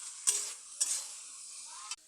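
Salon curry being stirred in a pot with turmeric, chili powder and salt gives a soft steady sizzle, broken by three sharp scraping stirs.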